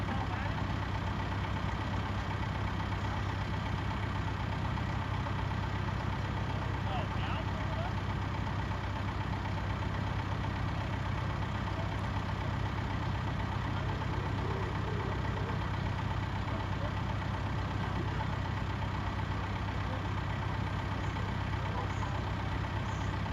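A tractor engine idles nearby on a farm, a steady, unbroken low mechanical hum that runs the whole time with faint voices talking underneath.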